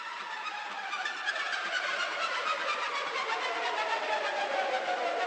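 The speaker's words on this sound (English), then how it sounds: "It's just this descending sound that's being done with Soundtoys Crystallizer." A dense, shimmering sound effect processed through Soundtoys Crystallizer sweeps slowly downward, steady and fairly loud throughout with a granular, glittery texture and no voices.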